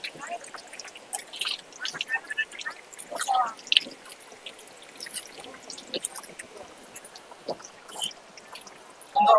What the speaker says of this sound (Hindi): नंदी बाबा के मुख से पानी आ रहा